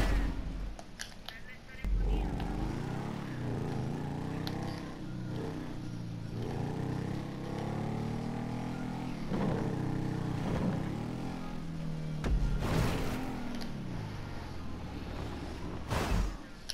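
A motorcycle races in GTA 5 Online, its engine note rising and falling steadily through gear changes, with a couple of sharp impact thuds near the end.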